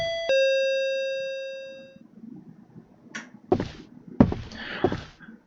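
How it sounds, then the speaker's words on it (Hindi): A doorbell rings late at night, one bright chime that rings out and slowly fades, followed by several heavy, irregular knocks and thumps close by. "अब घंटी बजाया"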